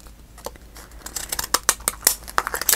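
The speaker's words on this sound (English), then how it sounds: "Grab a pair of scissors up here." Scissors snip through paper for a journal craft project, giving a run of crisp, irregular cuts and rustles that grow louder and faster toward the end, close by with no talk.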